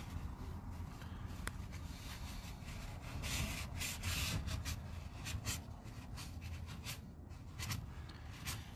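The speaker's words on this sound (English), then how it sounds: "I'm constantly folding it in and out so I'm not just smearing wax around." A blue shop towel rubbing coloured wax over painted furniture, close and continuous scrubbing strokes in an uneven rhythm, with no voices.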